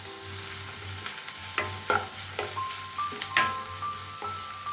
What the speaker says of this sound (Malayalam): എണ്ണ ചൂടാകുമ്പോൾ 2 മീഡിയം സൈസ് സവോള ഇട്ട് വഴറ്റിയെടുക്കാം.